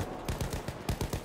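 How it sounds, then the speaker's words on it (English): Rapid bursts of gunfire from the Battlefield video game crack in a quick, even rhythm, fairly faint and alone with no talk. "He got revived and I shot him again."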